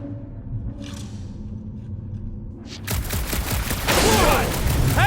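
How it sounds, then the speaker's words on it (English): Star-Lord test-fires his blasters in the Guardians of the Galaxy game on PS5: a low ambient hum, then a sudden burst of rapid gunfire with booming rumble that grows louder near the end. "Just making sure my guns work."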